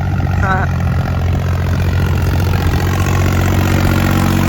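An old farm tractor with a recently overhauled engine runs steadily at idle, a loud, close, continuous low rumble with a dense rhythmic chug throughout.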